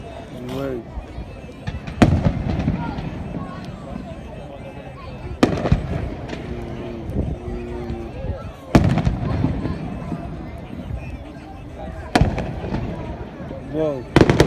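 Fireworks burst over Poole Quay in a series of sharp, loud bangs spaced a few seconds apart, with crackling fizz and crowd voices talking and reacting in between.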